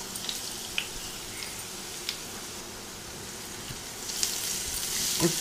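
Grated carrot fries in a pan with onion and curry leaves, giving a soft, quiet, continuous sizzle with a few faint clicks of stirring. There is no talking.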